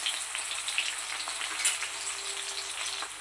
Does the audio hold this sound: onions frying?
yes